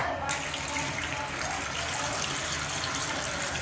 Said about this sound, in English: we're gonna put some water on it